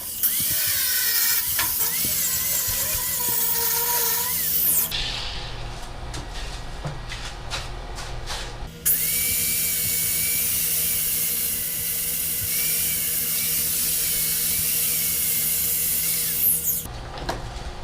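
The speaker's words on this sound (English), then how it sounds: "I'm going to have to grind it off." An angle grinder shrieks loudly as it grinds protruding welded metal off a desk, in two long passes separated by a short pause with lower clattering and rubbing, alone without talk.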